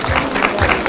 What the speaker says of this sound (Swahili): Makofi kabisa.